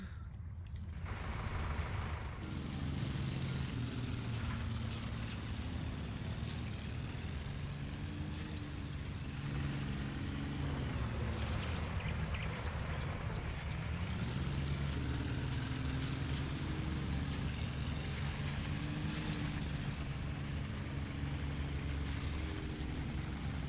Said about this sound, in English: hearing some engine running on this side over here